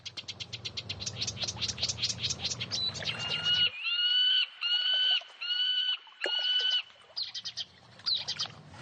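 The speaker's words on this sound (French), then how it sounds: "Regardez ça, c'est un grand vol d'oiseaux de rivage." A large flock of shorebirds calls along the Colorado River. Rapid high chirps and whistles are layered over a low rumble at first, then come as clear repeated piping calls in bursts, fairly close.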